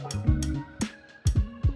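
Several sharp taps on the metal mount of a portable vocal booth's mic stand, each a bright clink with a short resonant ring, spaced irregularly across under two seconds.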